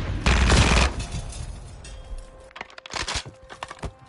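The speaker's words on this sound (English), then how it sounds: "I'm taking fucking rounds" Incoming gunfire in Call of Duty Modern Warfare 3 multiplayer: a loud opening burst of rounds, then a stretch of quieter crackling snaps and scattered shots, close and sharp.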